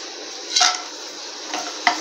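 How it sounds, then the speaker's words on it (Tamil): Cashews and raisins frying in ghee over a medium flame, a steady soft sizzle with a few light scrapes of a spoon against the pan, close and fairly quiet, no voices. "நெய் காஞ்சதும் நம்ம அந்த முந்திரி திராட்சையை மீடியம் ஃப்ளேம்ல வச்சு நம்ம வறுக்க போறோம்"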